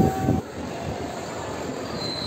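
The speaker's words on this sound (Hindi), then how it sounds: "ये देखिए सामने हमारी ट्रेन आ चुकी है आगरा फोर्ट के लिए" A train pulls into a station platform on its way to Agra Fort, and its wheels squeal and the cars rumble close by and loudly, the screech easing into a steady rolling roar as it slows.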